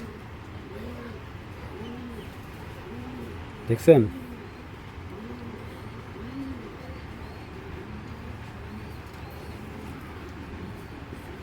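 Pigeons coo indoors in a loft of young and fancy breeds, a steady rolling murmur of low repeated coos throughout, with someone talking over them.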